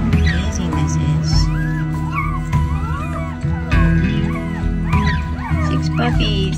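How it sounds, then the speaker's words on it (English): Newborn Rottweiler puppies whimper and squeal in high, wavering cries, close by, while a person talks over them. "Six puppies. I don't know if there's more, but there's six puppies."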